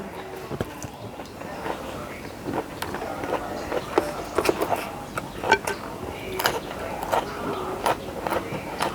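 Close-up eating of Thai spicy basil stir-fry (kaphrao) with pickled bamboo shoots and offal over rice, with irregular soft crunches and chewing clicks repeating throughout, near and fairly quiet.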